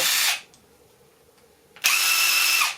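A Bosch Core18v socket-ready impact driver spinning free at high speed, giving two loud whining bursts split by a short quiet pause, close and with no talk.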